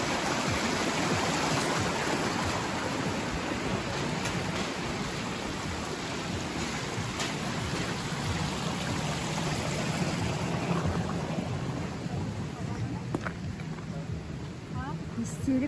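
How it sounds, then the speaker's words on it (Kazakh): A mountain river flows through the Butakovka gorge, a steady rushing wash heard at moderate distance, with voices speaking over it. "Ана жақтан су ағып жатыр өзен."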